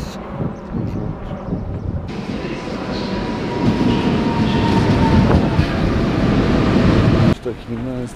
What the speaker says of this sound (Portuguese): Estou aqui na estação do comboio. Acabei de sair do comboio.